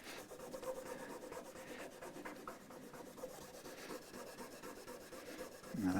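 A cloth rubs finger grease and grime off the rosewood fretboard of a Stratocaster-style guitar, a faint, close, continuous scrubbing with a quick rhythmic back-and-forth texture.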